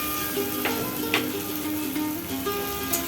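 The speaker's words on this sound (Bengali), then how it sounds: "কুচনো পেঁয়াজ এবং কুচনো টমেটো দিয়ে হালকা লাল করে ভাজতে থাকব।" Chopped onion and tomato frying in a pan for an egg curry, a steady close sizzle with a few soft stirring scrapes and no talking.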